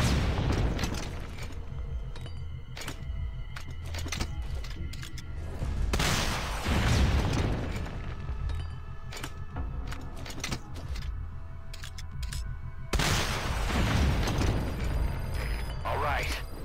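Explosions destroying anti-air targets in the video game Metal Gear Solid V: Ground Zeroes, heavy booms with rumbling debris and clattering mixed into game sound, with speech layered over much of it.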